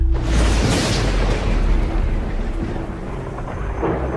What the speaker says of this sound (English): Electrical storms occur on Earth when air masses shift against each other, stripping electrons and accumulating charge